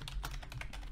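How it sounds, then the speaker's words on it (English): Fingers type a short run of keystrokes on a computer keyboard, with quiet, quick taps close to the mic. "and we can type"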